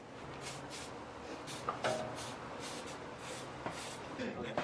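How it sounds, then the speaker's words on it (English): Repeated short hissing bursts from a WD-40 aerosol can sprayed onto rusty exhaust bolts, about a dozen quick sprays in an irregular rhythm with faint clicks and handling noises. "Let's soak in WD-40 first to loosen out the old rusty bolts."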